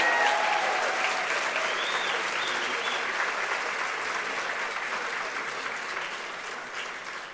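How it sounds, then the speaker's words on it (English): Applause fills an awards ceremony hall, loud dense clapping from a large audience that holds steady and slowly fades over several seconds, with a few faint voices among it. "Can we please give them one more round of applause"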